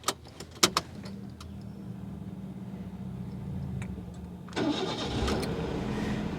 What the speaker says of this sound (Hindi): अगर हम गाड़ी को स्टार्ट करते हैं